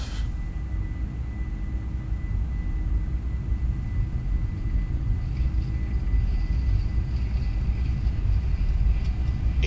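Simulated Boeing 747-400 engines in X-Plane 12 during the takeoff roll: a continuous, heavy low rumble and roar at a steady level, with a faint high whine above it.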